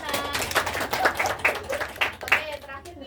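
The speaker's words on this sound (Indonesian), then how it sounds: "tepuk tangannya mana?" A classroom of junior high students claps hands in a short, uneven burst of sharp slaps, close and moderately loud, with voices mixed in.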